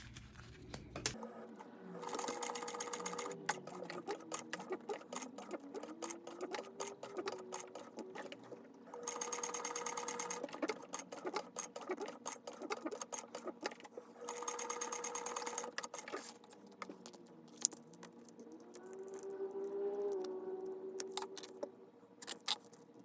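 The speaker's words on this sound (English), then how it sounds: "I'm gonna go ahead and stitch down the side that's left" Sewing machine stitching down the side of a small fabric bag, running in three long bursts of rapid mechanical whirring and needle clatter separated by quieter pauses of handling noise.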